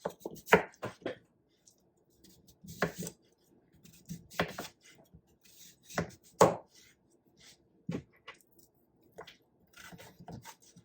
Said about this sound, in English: then we're going to chop up our sweet potato